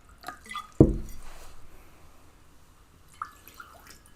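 Water drips and trickles into a drinking glass, beginning with a single sharp splash, then a short soft pour and a few faint drips, with no voices.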